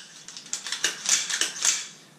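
AR pistol action cycling with a buffer and buffer spring, a run of quick dry clicks and clacks at close range with no talk.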